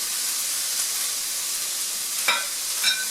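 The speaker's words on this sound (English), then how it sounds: "Now the onion and the garlic is cooking" Onion and garlic fry in a pan for chicken curry, giving a steady, bright hiss of oil up close, with two brief stirring scrapes near the end and no talking.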